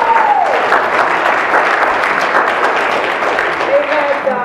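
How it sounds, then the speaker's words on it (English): A church congregation at a Sunday service applauds the Boy Scouts, a steady wash of dense clapping from many hands filling the room, with a brief squeal of microphone feedback at the start and end. "Give them a round of applause."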